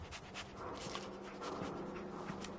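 A dog in the Fallout 4 video game pants steadily in quick, soft rhythmic breaths, faint and low in level, with no speech over it.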